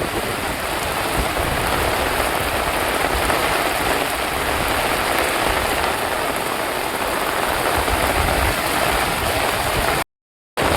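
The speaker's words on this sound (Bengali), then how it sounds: "এত প্রবল বর্ষণ চলছে যে পুরো ভিজে যাচ্ছে একেবারে" Heavy monsoon downpour in the Sundarbans forest, a dense, steady roar of rain hammering the ground and foliage close by, unbroken throughout with no voices, cutting out briefly near the end.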